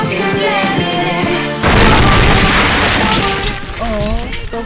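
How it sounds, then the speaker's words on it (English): An explosion in a movie trailer: a sudden loud blast cuts off the music and roars into crashing, shattering debris, with voices heard over the dying rumble. "An explosion!"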